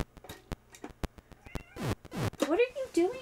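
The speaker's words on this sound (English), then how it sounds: "Cat." A cat meows several times up close, with drawn-out, rising and falling cries near the end, while sharp clicks and knocks sound around it.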